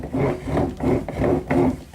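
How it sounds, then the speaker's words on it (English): A wooden dowel rolled under a piece of timber on a hardwood surface makes four steady rasping, rubbing passes, each about a third of a second long, close and alone. "getting a piece of timber and on hardwood just roll it"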